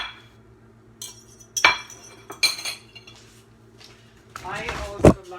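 Balsamic vinegar mixed in a kitchen bowl with a utensil: a few sparse clinks and taps of metal against dish, then a short burst of quicker scraping and a firmer knock near the end, with light talk in the background.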